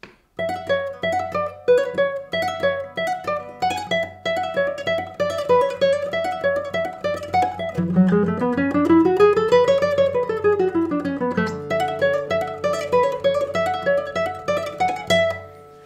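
A guitar plays a running scale passage of quick plucked notes, rising and falling steadily for about fifteen seconds, moderately loud and with no voices.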